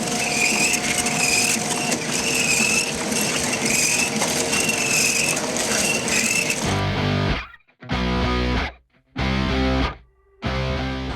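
Thread rolling machine forming screw threads with a heavy flow of oil, heard up close as a loud, continuous harsh mechanical grinding and clatter that breaks into repeated rhythmic surges with brief gaps near the end.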